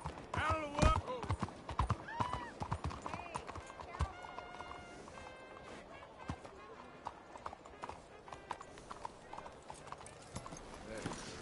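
Rapid horse hooves clip-clop steadily throughout in the video game Red Dead Redemption 2, with occasional whinnies and busy background noise.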